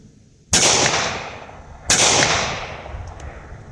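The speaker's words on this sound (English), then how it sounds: "So let's just shoot a little bit here." Two sharp, loud pistol shots from a Ruger LCP Max, spaced about a second and a half apart, each with a ringing tail and no talking in between.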